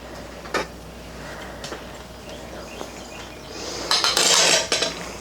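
Dishes and cutlery clink while a dinner plate of wings, chicken and pasta is served, with sparse scattered taps early on and a brighter, louder burst of clattering near the end, no talk.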